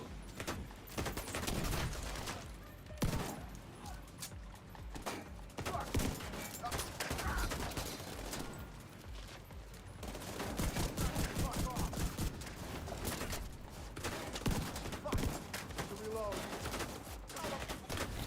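Shotgun and other gunfire in The Division 2 firefight, dense repeated blasts and bursts running throughout, loud and continuous with talk over it.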